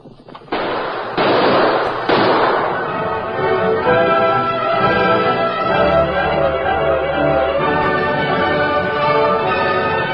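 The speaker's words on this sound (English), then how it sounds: "Keep up that gunfire" Gunfire in a western radio drama shootout: several sharp, loud bursts crack out in the first two seconds, then a dense, sustained roar of shots and noise carries on to the end.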